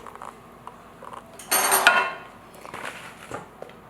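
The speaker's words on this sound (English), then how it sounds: "now I'm going to put it into the crust, into the skillet with the bottom crust" A spoon clatters and scrapes against a skillet as blackberry cobbler filling goes onto the bottom crust: a loud metallic burst in the middle, with softer knocks before and after.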